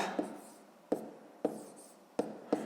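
A math answer is written down by hand in five short, distinct scratching strokes spaced roughly half a second apart, close and clear in a quiet room.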